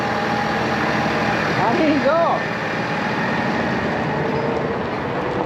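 On a farm at harvest time, a tractor's engine runs in a steady, fairly loud rumble close by. Someone speaks briefly over it.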